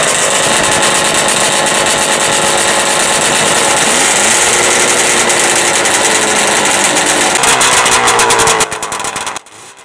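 A 1969 Ski-Doo TNT 399 vintage snowmobile engine runs loud and steady with a harsh buzzing drone for most of the stretch, then cuts off abruptly near the end.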